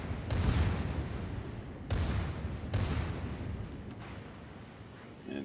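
Heavy naval gunfire from the battleship Montana in World of Warships, three booming salvos spaced apart with rumbling decay between them, loud and full, with a faint distant crack near the end.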